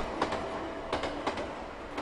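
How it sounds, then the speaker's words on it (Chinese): A train running along a railway makes a steady, muffled rumble, with a few faint clicks of wheels crossing rail joints at irregular intervals. "准备坐火车入京"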